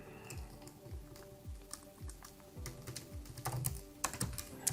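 Typing on a computer keyboard, a steady patter of close, crisp keystrokes running without a break, with a few louder clacks near the end.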